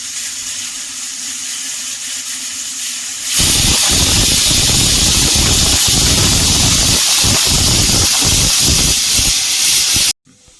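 A pressure cooker on the stove cooking dal lets off steam, a quiet hiss swelling suddenly into a loud, sustained whistling jet of steam that runs for several seconds before cutting off sharply.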